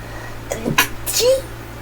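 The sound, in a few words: sneeze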